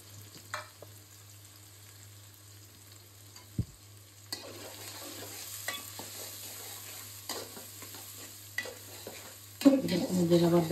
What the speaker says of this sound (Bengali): এখন দিয়ে দেব পেঁয়াজ, ব্রাউন করার জন্য।